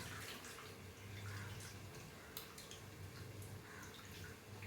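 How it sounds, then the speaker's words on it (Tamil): Water is poured into soaked tamarind and tomato and mixed by hand to make rasam, giving a steady wet sloshing and trickling that runs close and continuous throughout, with no talk. "இதை வந்து நம்ம தேவைப்படுற அளவுக்கு தண்ணி விட்டு கரைச்சிக்கிடுவோம்."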